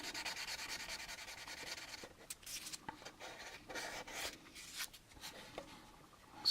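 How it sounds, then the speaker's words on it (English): Sandpaper rubs over a plastic model kit, an AMT U.S.S. Enterprise, in close, soft back-and-forth strokes that come in short bursts with brief pauses between them. "if you got some decent sandpaper, you should be able to smooth this out okay."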